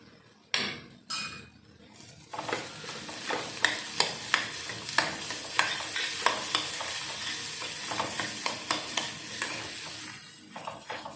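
Ghee sizzles steadily in a pan while a utensil stirs and scrapes against the metal, with regular tapping clinks throughout, close and moderately loud.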